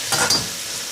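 Boiling water poured onto rabbit meat frying in a pot sets off a short, loud burst of sizzling hiss that quickly settles into a steady frying crackle.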